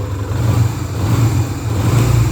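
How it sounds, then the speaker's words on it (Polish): A 2001 Yamaha XV 125 Virago motorcycle engine, close by, rises and falls through light revs from a steady low throb, the pitch swelling briefly before settling back, with no voices. "Bardzo ładnie się wkręca, ładnie schodzi z obrotu"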